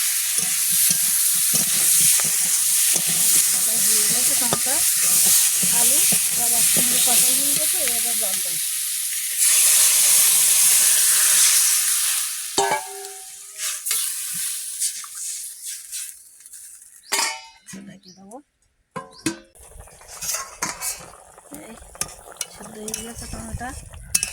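Small mourala fish are sautéed with spices in a hot pan. A loud, hissing sizzle runs for about half the clip, then fades into quieter frying broken by sporadic clanks and scrapes of stirring, heard close up.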